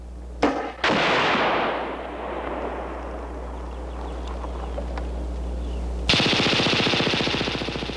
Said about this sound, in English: The functional firing with the HK-21 machine gun demonstrates the weapon's perfect operation when employing either joined or disintegrating link belts of various designs